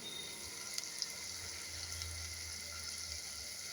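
Small onions, garlic and tomato sautéing on slow heat in a pan, a faint, steady sizzle with a low background hum and occasional tiny ticks.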